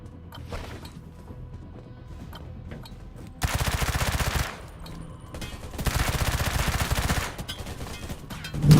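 Bursts of rapid automatic gunfire from a .50-calibre weapon in Undawn, two loud sustained volleys separated by quieter pauses, with a final shot building at the end.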